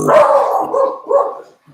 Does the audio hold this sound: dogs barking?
yes